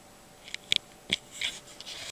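A cat shreds toilet paper in a bathroom: faint, scattered scratchy rustles and tearing bursts, a few sharper flicks, in a quiet room with no talking.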